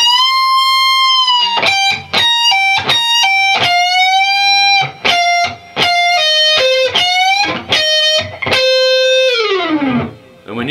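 An electric guitar through distortion plays a lick, with picked notes, pull-offs, string bends and slides, ending in a long downward slide.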